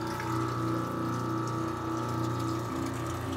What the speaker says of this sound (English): I'm going to go ahead and turn my pump on.